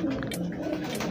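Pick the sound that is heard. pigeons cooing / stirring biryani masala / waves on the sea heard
pigeons cooing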